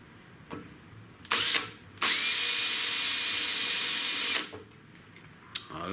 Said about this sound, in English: I'm just going to drill a 2mm hole through there.